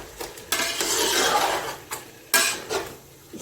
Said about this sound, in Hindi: अब मैं इसमें डालूंगी बिरयानी मसाला, इसको अच्छी तरह मिक्स करूंगी।